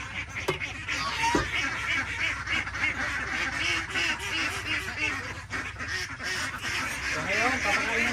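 Young ducks about two to three months old quack repeatedly at close range, a busy overlapping chorus of short nasal calls over farmyard background noise.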